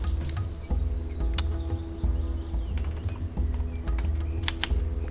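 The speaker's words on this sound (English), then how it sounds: "this probably is just because I'm typing" Fast, uneven clicking of keys on a computer keyboard, close and fairly loud, with a faint chirp in the background and no talking.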